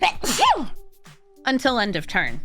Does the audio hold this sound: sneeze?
yes